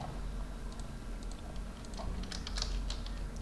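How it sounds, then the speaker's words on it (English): Keys clatter on a computer keyboard in a quick, uneven burst of close, crisp clicks, busiest toward the end, with no voices. "I'm going to column and adding text by selecting it. I'm going to type"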